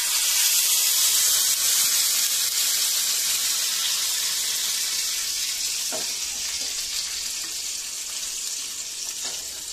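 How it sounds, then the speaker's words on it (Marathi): Water hits a hot tempering of oil, sesame seeds, curry leaves and sugar for dhokla, giving a steady, loud hiss and sizzle that fades slightly over ten seconds, with a few faint clicks of stirring. "साखर घालून आता आपण यात पाणी घालूयात"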